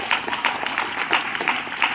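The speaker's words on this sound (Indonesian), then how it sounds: "Tepuk tangan untuk santri." An audience claps for boarding school students at an Islamic pesantren gathering, a steady patter of applause from a moderately distant crowd.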